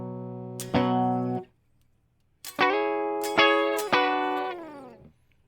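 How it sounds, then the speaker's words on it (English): A single-coil electric guitar with fairly dead strings, played clean with no effects: notes ring out one at a time, first a single sustained note, then a pause, then several plucked notes in succession, each decaying naturally. "First, I'll play the guitar with nothing."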